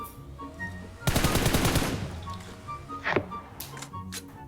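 A rapid burst of automatic gunfire in the battle royale game PUBG Mobile, loud and close for about a second, followed by a few softer scattered shots and impacts over quiet game ambience.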